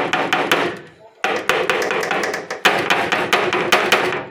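Loose rivets on the crossbeams of a truck's cargo box knock in rapid, uneven clusters of sharp metallic raps, loud and close, with a brief gap before the knocking resumes.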